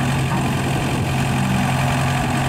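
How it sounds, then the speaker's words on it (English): A Vermeer V120 4x4 trencher backhoe sits with its engine idling, a steady, loud, low rumble that holds even throughout with no talk. "Here we are with the backhoe."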